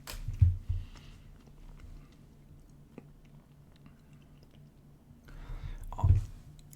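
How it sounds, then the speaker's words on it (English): Soft, close crunching and munching on Made in Nature dried mango snacks comes in two brief bursts, with quiet room tone in between. "Oh, you can hear my munching?"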